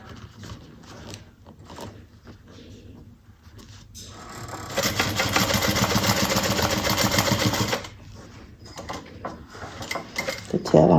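A sewing machine stitches a bucket bag in one close, loud, steady run of rapid needle chatter lasting a few seconds, with quieter handling and a voice speaking before and after.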